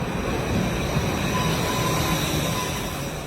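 A Tashkent subway train rumbles steadily at close range, its railcars giving a broad continuous roar with faint squealing wheel tones running through it.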